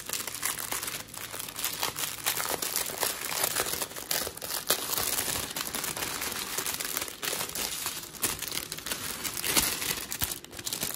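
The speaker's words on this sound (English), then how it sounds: "If you don't like the sound of crinkling, just turn the volume down or mute it till you see I'm done battling the bag." A plastic bag crinkles and rustles continuously as it is opened and handled, a dense, close crackling that carries on for several seconds without speech.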